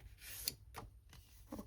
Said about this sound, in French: Vous marquez le pli.